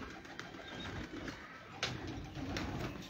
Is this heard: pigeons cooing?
yes